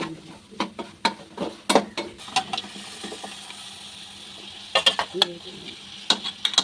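A spoon scrapes and clacks through chicken with Ajmeer chicken masala in a pan, in irregular bursts of stirring strokes over a low, steady sizzle, close and fairly loud.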